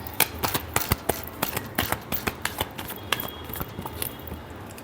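Tarot cards are shuffled by hand in quick, crisp riffling bursts, a rapid run of sharp flicks and taps, close and moderately quiet.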